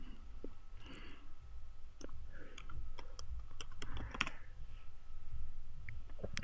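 Quiet keyboard typing for an image search: scattered light clicks and taps at an irregular pace, faint and close, over a low background hiss.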